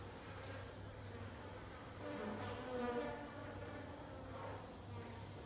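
Bees buzz in a close, steady drone while crawling over the stigmas of a Titan arum flower, with faint insect whines overlapping in the background.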